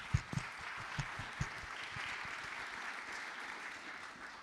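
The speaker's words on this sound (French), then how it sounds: "il mérite d'ores et déjà un très grand applaudissement, ou 2 très grands applaudissements" Audience applause at a conference on European energy geopolitics, a soft, distant wash of clapping with a few sharper claps standing out early, then fading to a steady low patter.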